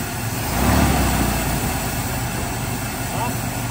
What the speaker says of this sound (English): super relieved to hear the old rot buggy plow truck run